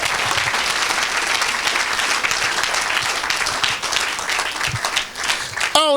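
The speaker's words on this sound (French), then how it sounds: "Est-ce qu'on peut acclamer pour Jésus-Christ?" A sermon audience breaks into sustained, loud applause and cheering for Jesus Christ, dense clapping filling the whole stretch without pause.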